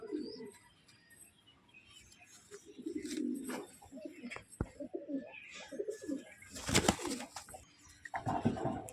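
Green domestic pigeons kept at home coo in soft, low phrases that come and go, with some brief sharper chirps and rustling, fairly close and moderately loud.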